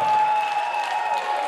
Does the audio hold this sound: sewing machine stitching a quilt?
no